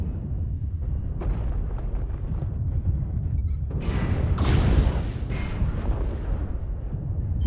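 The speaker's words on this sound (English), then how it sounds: "Artillery strike online." Artillery strike explosions from the video game MechWarrior Online land as a series of heavy booms and rumbling blasts, with a sharp loud impact near the middle followed by a rolling rumble.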